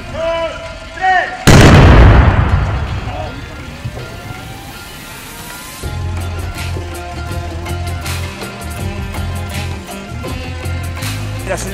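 A car blows up in a single loud, sudden blast during a film shoot, followed by a long roaring decay and crackling debris, with people talking and background noise continuing afterward.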